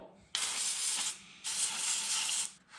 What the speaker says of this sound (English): We're going to try to spray this on there.